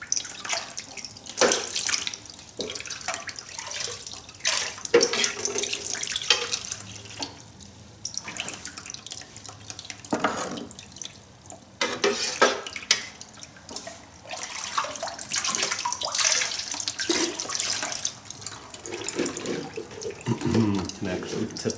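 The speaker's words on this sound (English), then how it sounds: "Take a little bit of water, a scoop, run it down the sluice into the pan." Water scooped and poured down a Gold Hog mini stream sluice into a gold pan, splashing and trickling in repeated bursts with intermittent talk over it.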